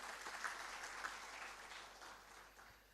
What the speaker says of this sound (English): So a huge round of applause for Brigadier Singh